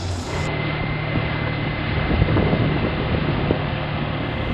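A Yamaha 139cc outboard engine runs at steady revs with a thin, tinny buzzing drone, heard close up amid wind rush and water noise, with no talking.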